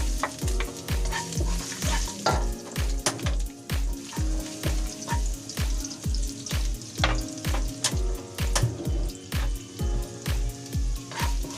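Garlic sautéing in a little leftover oil from frying tofu, a bright sizzle under rhythmic, regular stirring strokes that repeat steadily throughout.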